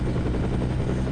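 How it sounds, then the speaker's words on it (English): Helicopter in the video game No One Lives Forever, a loud, close rotor thump pulsing rapidly in a low, heavy drone throughout the brief moment. "What's up with the helicopter?"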